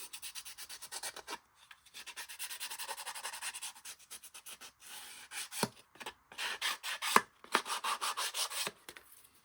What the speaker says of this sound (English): I'm going to sand the edge.